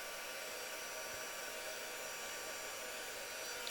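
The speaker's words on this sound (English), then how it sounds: "I'm just going to pop my heat gun on" Heat gun switched on for heat embossing powder on a craft project, a steady broadband whooshing blow-dryer-like roar that holds constant and fairly loud throughout with no talk.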